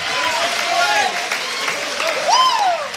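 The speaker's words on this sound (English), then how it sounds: "Another big round of applause" Crowd applause and cheering at a combat-sports fight right after a TKO win, a loud, dense, continuous wash of clapping across the whole stretch with whoops and a voice rising over it.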